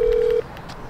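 A single telephone keypad tone is heard as a phone is dialed for a call: one steady beep lasting under half a second, then faint room noise.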